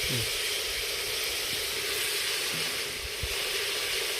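Vegetables fry in a pan with coriander and mint during village outdoor cooking of paneer pulao, a constant close hissing sizzle with faint low knocks and occasional speech underneath.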